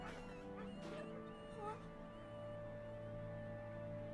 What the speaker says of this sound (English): those are dogs actually